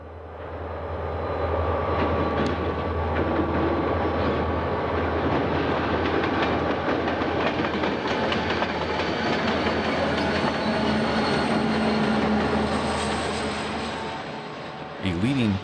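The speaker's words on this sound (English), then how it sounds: "A leading F-45 is heading into Tunnel 9 to pass under the Loop." A Santa Fe train led by an F-45 diesel locomotive passes near Tunnel 9 at the Loop, a loud, steady roar of engine and rumbling cars with faint rhythmic wheel clatter that holds for about fifteen seconds.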